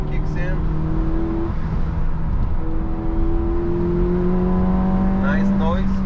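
A Peugeot 308 GTI 1.6 turbo engine (197 hp) revs up with rising tones as it accelerates hard through the gears, turbo kicking in past 4,000 RPM, loud and close, with a voice speaking over it.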